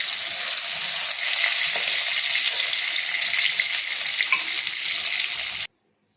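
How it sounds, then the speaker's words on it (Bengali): Prawns frying in hot oil in a pan give a loud, steady, close sizzle that holds evenly, then cuts off abruptly near the end. "চিংড়ি মাছগুলো ভেজে নেব।"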